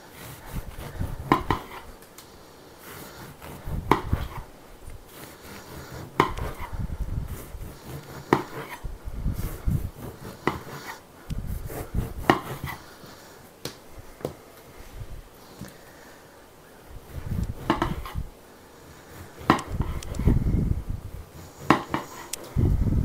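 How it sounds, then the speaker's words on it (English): A knife dices cinnamon bread into cubes on a board, producing repeated close, soft thumping cuts in irregular bursts with short pauses and no talking. "I'm just dicing it into probably 1 to 2 inch cubes here"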